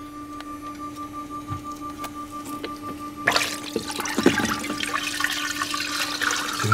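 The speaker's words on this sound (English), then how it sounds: "And that'll create like a little vortex inside the chamber here." A resin 3D printing wash station starts up partway through, swirling cleaning liquid into a powerful vortex inside its chamber, a loud continuous churning, sloshing wash over a steady low hum.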